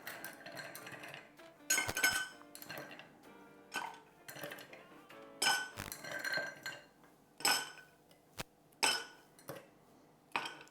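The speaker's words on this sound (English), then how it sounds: "so we're going to add our ice." Ice cubes drop into a margarita cocktail in a series of sharp, bright clinks and rattles against glass or metal, each burst separated by short pauses.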